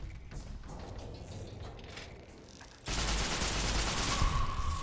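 Gunfire at giant ants in Fallout New Vegas: scattered shots at first, then a sudden dense, loud burst of rapid fire that keeps going to the end.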